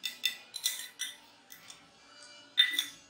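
A spoon stirs salt into a cup of water for a floating-lemon science experiment, giving a run of sharp, bright clinks against the cup in uneven bursts with quiet gaps between.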